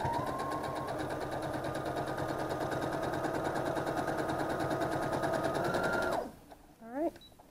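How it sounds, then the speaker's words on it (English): Sewing machine stitching fabric with steady rapid needle clatter running close and loud for about six seconds, then stopping abruptly, followed by a brief spoken voice. "creep up, pull it out before your needle gets to it, and then continue sewing"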